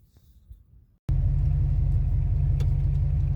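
A 1995 Ford Falcon fitted with a Thunderbird independent rear suspension drives along. After about a second of near quiet, a close, steady engine and road rumble starts abruptly and holds to the end.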